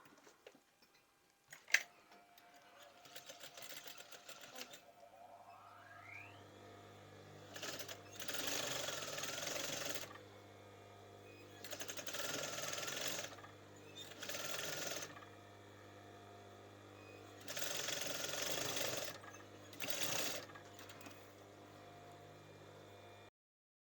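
A sewing machine stitches a cushion pillow slip in several short bursts of rapid, even whirring separated by pauses, close and moderately loud over a low steady hum.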